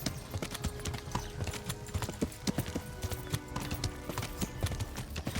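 Horse hooves clip-clop steadily in the Kingdom Come: Deliverance video game as a tiring horse is ridden, the rhythmic, fairly close hoofbeats running throughout with no talking.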